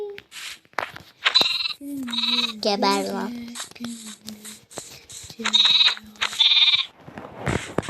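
Baby sheep in Minecraft bleat in repeated short, wavering cries, several clustered in bursts, while someone talks over and between them.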